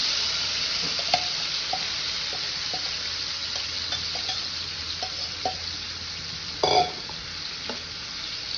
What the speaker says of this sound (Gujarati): પછી આપણે જે વેજીસ મેરિનેટ કરેલા હતા એ એડ કરી દઈશું આમાં.